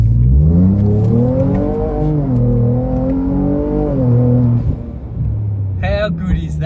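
A Ford Raptor's 3-litre twin-turbo V6 revs hard and holds a loud, rising and falling engine note, close by, with a brief higher whine near the end.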